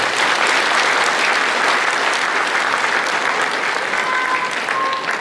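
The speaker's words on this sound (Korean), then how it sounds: "우리 도든 사회자에게 감사의 박수 드립니다" Steady, dense applause from a party members' audience fills a hall at a People Power Party South Chungcheong provincial chapter education and inauguration ceremony, continuing evenly throughout with no talking.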